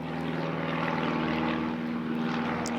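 A propeller airplane drones overhead, a steady, moderately loud hum with a low pulsing engine tone that holds evenly throughout, with no talking.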